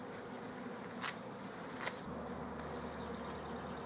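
Bees hum in a hive under a hive mat, a faint continuous buzzing with a few brief sharper ticks and a low steady hum joining halfway through.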